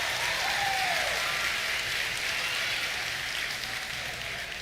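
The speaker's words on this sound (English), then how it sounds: "Yeah, you can clap for that." Audience clapping and cheering at an eighth grade junior high graduation ceremony, a continuous, dense wash of applause from a large crowd with a brief whoop near the start, sustained evenly throughout.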